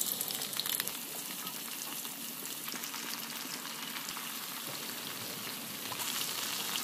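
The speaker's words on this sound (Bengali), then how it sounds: "এবার তেলের মধ্যে মাছগুলোকে অল্প আঁচে ভেজে নেব।" Pieces of rohu fish fry gently in oil on low heat, giving a steady, dense sizzle that carries on evenly throughout, close and without voices.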